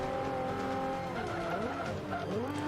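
A race car brakes hard in Forza Motorsport 5, with engine tones sliding downward and rising again amid tire skidding and squeal. Other cars' engines drone nearby at moderate volume.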